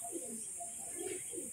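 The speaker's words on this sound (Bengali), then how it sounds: "চটিয়াল ম্যাড্রাস মাদি পায়রা রয়েছে।" A female crested Madras pigeon coos softly at close range, a few low, rounded coos over a steady hiss, faint and without talk.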